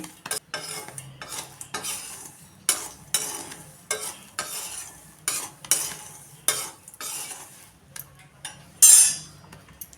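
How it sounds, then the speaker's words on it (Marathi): Chickpeas dry-roast in a kadhai for salted roasted chana, with a soft crackle under repeated scraping stirs and clinks of a metal spatula against the pan, close and uneven in rhythm, no talking. "आता आपण हे सगळे हरभरे भाजून घ्यायचे आहेत"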